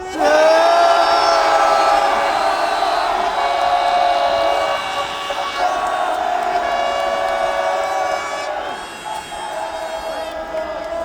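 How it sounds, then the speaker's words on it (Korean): A packed rally crowd at the launch of a presidential defense group roars and cheers in long, loud sustained shouts that swell and gradually ease back. "여기 모인 모든 분들의 함성이 들리십니까?"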